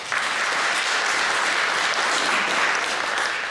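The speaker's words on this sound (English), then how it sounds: "Please, another round of applause for both." Loud, dense applause fills a hall for both teams after a school debate grand final, continuous clapping from start to finish with no voices over it.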